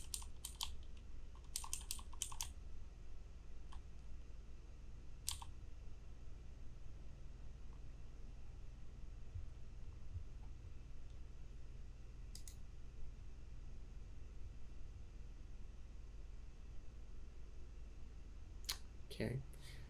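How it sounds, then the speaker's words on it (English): Computer keys clicked while single-stepping through a program in a debugger, a sparse run of short isolated taps and small bursts spread over a steady low hum, with no talking. "Gonna be a lot of clicking here."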